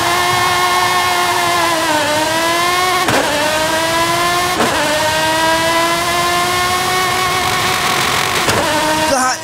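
A car engine in Forza Horizon 5 revs hard toward redline, pitch climbing and dropping through several gear shifts, loud and close, with a brief sharp blip at the end.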